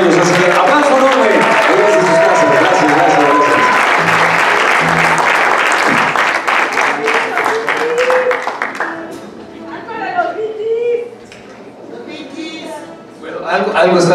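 A concert audience breaks into loud, dense applause that tapers off into scattered claps, with cheering voices and some talk as it fades.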